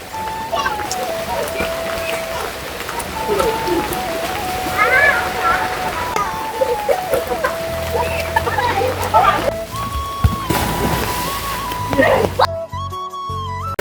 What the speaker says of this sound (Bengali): আজকে সকাল থেকে এরকম বৃষ্টি হয়ে যাচ্ছে